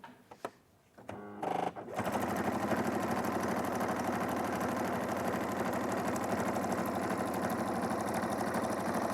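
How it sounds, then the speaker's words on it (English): A sewing machine stitching fabric at a live sewing session: after a few handling clicks and a brief start, the motor runs steadily and fast with a dense, even mechanical whir close by until the end. "I'll sew this one on, and then I'll do it again."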